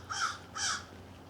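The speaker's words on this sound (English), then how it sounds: "There's a crow way up there." Two loud caws from a crow perched high overhead, evenly spaced in quick succession, with no talk around them.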